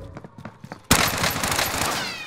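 Gunfire crackles in a shooting video game, a sudden burst of rapid shots that keeps going loud and close, after a short stretch of quieter game sounds.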